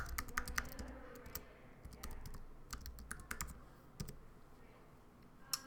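Login credentials typed on a computer keyboard, with quick irregular bursts of key clicks and short pauses, close and fairly quiet, with no talking.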